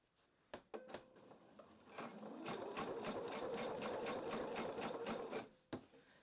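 A sewing machine runs a steady burst of rapid stitches through light blouse fabric, with a few isolated clicks before and after. The stitching is close and faint with no talking.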